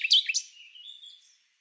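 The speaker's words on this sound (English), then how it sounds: "Let's meet the mysterious blue rock thrush." A blue rock thrush in Morocco gives a single clear call, a few quick high chirping notes followed by a thinner, trailing whistle that fades out, close and alone against silence.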